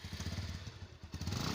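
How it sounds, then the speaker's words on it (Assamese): A motorcycle engine putters close by in quick, uneven low pulses, briefly dipping before picking up again. "বাইকখন ষ্টাৰ্ট দিলোঁ"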